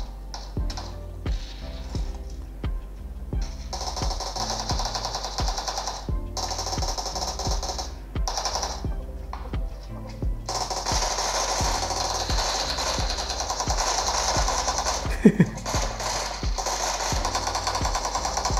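Rapid gunfire from a mobile shooter game plays on a smartphone with a 120Hz screen, sharp rhythmic bursts repeating steadily with brief pauses and a denser stretch near the end.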